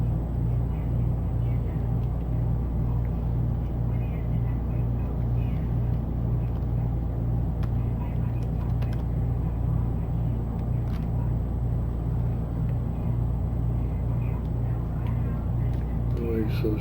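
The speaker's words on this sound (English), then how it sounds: "Looks like we got 4 engines up and running." Four jet engines of a KC-135 tanker run on the ground at Takhli Royal Thai Air Force Base, a steady, loud low rumble and drone that holds evenly throughout without letup.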